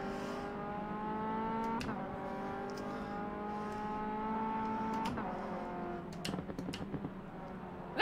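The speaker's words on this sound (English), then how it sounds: "I don't think this car's got the most riveting of engine notes in real life." Race car engine in the rFactor 2 racing game: a continuous mid-pitched engine drone with shifting revs and brief gear-change breaks, fairly faint and steady over the whole stretch.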